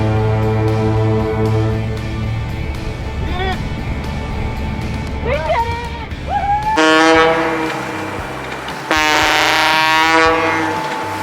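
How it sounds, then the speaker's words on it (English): Fog horns blast near the Golden Gate in San Francisco Bay, several long tonal honks, some with sliding pitch, sounding over steady low engine rumble and wind aboard a sailboat. "we received a typical San Francisco Bay goodbye with fog horns blasting."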